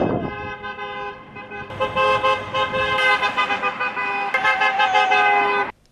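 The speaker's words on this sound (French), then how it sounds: "Gaël a eu envie de klaxonner dans tout Oswald." Car horns honk repeatedly and loudly after a wedding, long blaring toots overlapping with traffic rumble, cutting off abruptly at the end.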